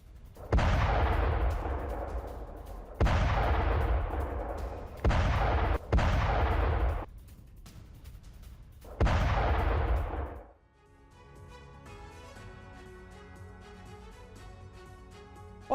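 Heavy blasts from drone strikes in Russia's Kursk region during the war with Ukraine: five loud, booming detonations in close succession, each with a rumbling decay, followed by quieter tonal noise with no talk.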